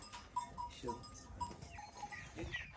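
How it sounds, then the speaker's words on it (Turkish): A single Aleppo goat in a garden gives a few faint, short bleats and small shuffling sounds at close range, with brief soft human noises mixed in. "Müthiş gözü kulağı kaliteli bir keçi"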